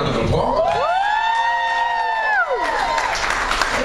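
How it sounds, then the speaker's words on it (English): A karaoke audience applauds a first-time singer with a continuous wash of clapping and cheering, while a rising and falling whoop soars over the crowd noise. "applause"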